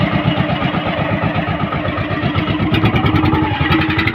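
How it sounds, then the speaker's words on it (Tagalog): A motorcycle engine runs steadily and loudly throughout, its even mid-pitched drone close by while it is ridden on an island, with no speech over it. "magdadala ng motor ngayon."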